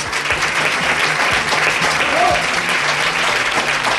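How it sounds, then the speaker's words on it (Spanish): A studio audience applauds two radio guests at a station's programming presentation, steady and loud clapping filling the whole stretch. "Un aplauso para los dos."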